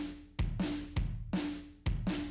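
Heavily distorted simple drums from a plugin beat, with loud crunchy kicks and a washy, saturated snare or hat alternating in a steady, slow pattern, played alone with no voices.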